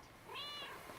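A cat meows once in the Xbox One game Another Sight, a short, faint, rising-and-falling call heard alone.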